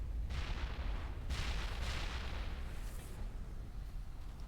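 Deep, rumbling booms from Mass Effect gameplay roll one after another over a continuous low roar, distant-sounding blasts overlapping for several seconds.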